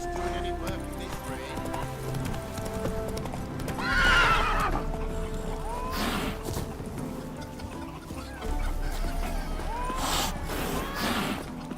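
Roach, a horse in a video game, clip-clops at a steady walking pace with rhythmic hoof thuds and lets out a couple of breathy neighs and snorts, while someone speaks over the sounds.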